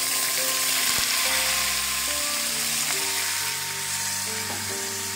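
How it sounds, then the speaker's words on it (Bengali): Rice being tipped into a hot pan for festival khichuri, frying with a steady close sizzle and the scrape of stirring, while tonal background music plays throughout. "এবার কিন্তু আমি চালগুলো দিয়ে দেবো"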